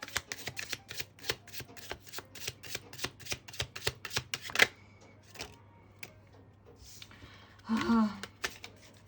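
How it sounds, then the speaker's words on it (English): A thin tarot deck is shuffled with a quick series of crisp, sharp card clicks and snaps in a steady rhythm, then a quiet pause, a soft rustle and a brief murmur. "I really like this deck, but it's just really thin and I find it hard to shuffle."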